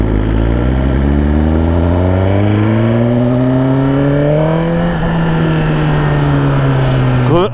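A 2022 Suzuki Gixxer 1000 sport motorcycle revs loudly and up close, its engine pitch climbing steadily through the gears before easing back near the end, a continuous throaty roar throughout.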